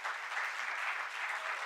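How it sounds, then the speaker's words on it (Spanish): Audience applause at a medical conference, a steady, even wash of many hands clapping throughout, fairly soft and with no voices over it. "yo quiero que le demos un gran aplauso a Viviana, por favor."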